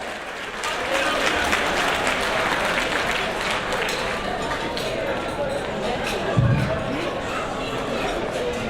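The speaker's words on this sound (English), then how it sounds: "Let's give him a big round of applause" An audience applauds an ambassador at a formal occasion, steady dense clapping sustained throughout with crowd noise and voices mixed in.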